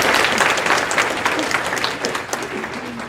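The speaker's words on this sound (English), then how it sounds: "so let's all give her a round of applause." An audience claps in sustained, fairly loud applause at a women's community event, dense and even for about three seconds with a few voices faintly mixed in.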